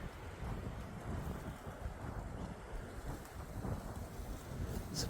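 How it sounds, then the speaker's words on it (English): Wind gusting through pine trees on a cold hilltop, a steady broad rushing roar that swells and eases, close and fairly loud with some buffeting, no voices. "I love the sound of the wind in the trees, through the pines."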